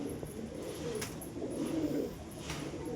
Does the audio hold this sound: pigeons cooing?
yes